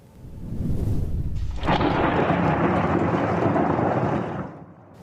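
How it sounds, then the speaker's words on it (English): Thunder snow in Utah, thunder during a snowstorm, booms as a deep, loud rumble that swells and rolls on steadily for several seconds before fading out. "What's called thunder snow, rocking Utahns out of their sleep."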